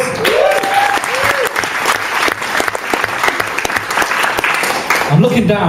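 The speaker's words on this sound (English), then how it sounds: "Round of applause." An audience at a comedy show bursts into sustained applause, a dense, loud wash of clapping that holds steady for several seconds, with a voice speaking over it near the start.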